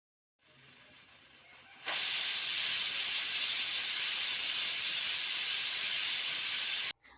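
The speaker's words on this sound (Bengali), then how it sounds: "আমি আজ ঘুগনি রান্না করব, তার জন্য মটর সেদ্ধ করতে বসিয়ে দিলাম।" Steam hisses from a pot of peas boiling for ghugni, a softer hiss that jumps to a loud, steady, close rush for about five seconds before cutting off abruptly, with no talking.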